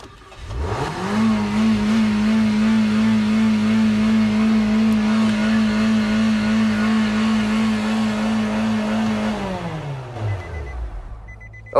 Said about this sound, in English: you fire the car up, sounds like it's gonna go 100 miles an hour